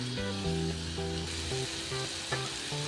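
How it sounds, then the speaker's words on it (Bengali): Spice paste stir-fried in oil for a Bengali curd prawn curry, heard as a dense, close sizzle beneath a tonal melody of music playing throughout. "আমি এবার একটু সময় নিয়ে নাড়াচাড়া করে এগুলোকে কষিয়ে নেব"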